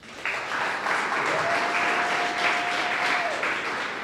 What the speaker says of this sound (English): ask for a round of applause for her